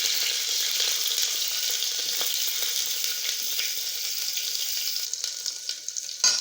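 Bay leaves drop into hot oil already crackling with mustard seeds, cumin and shahjeera, giving a steady bright sizzle close by with a few sharper pops near the end and no talking.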